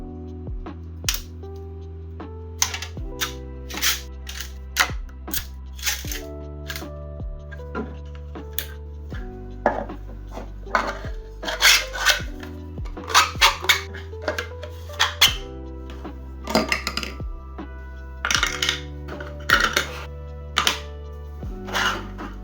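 A 3D printer building a rotating container, its stepper motors whirring in shifting pitched tones with scattered ticks and clicks, steady and close with no voices.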